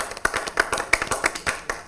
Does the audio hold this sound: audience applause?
yes